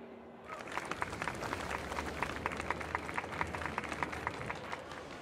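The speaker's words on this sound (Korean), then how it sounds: "감사의 뜻으로 힘찬 박수를 보내주세요." A crowd at a festival in the video game Honkai: Star Rail bursts into sustained applause, dense clapping that continues steadily for several seconds.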